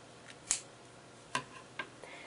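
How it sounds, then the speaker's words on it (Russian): Scissors snip excess yarn tails on a crocheted slipper with a felt insole, giving three or four sharp, separate clicks spaced through a quiet room. "И лишние хвостики обрезаю."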